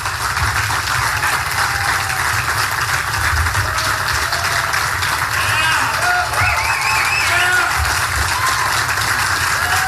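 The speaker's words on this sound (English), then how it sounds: "some of the press was actually clapping" Press members applaud at a 2015 Donald Trump campaign event where he announced his tax plan. The clapping is dense and sustained, a steady crowd wash running through the whole stretch without a break.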